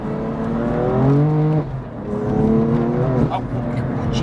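A heavily modified BMW M4 CS on 315-section rear AR1 tyres pulls hard on the road, its engine note climbing loudly in two rising sweeps with a brief dip at a gear change, heard close from inside.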